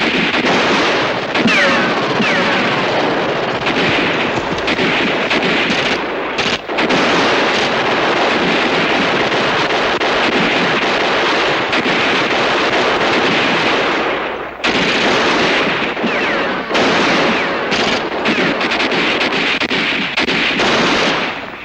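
Relentless, loud gunfire and machine-gun bursts from a WWII battle in the 1962 war TV series Combat!, crackling continuously for over twenty seconds with booming shots and only momentary breaks.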